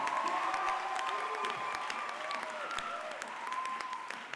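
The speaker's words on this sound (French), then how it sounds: "Est-ce qu'on peut donner encore une acclamation à Jésus?" A French-speaking church congregation at a Sunday service claps and cheers for Jesus, with sustained dense applause and scattered shouts lasting the whole stretch, a few voices rising within it.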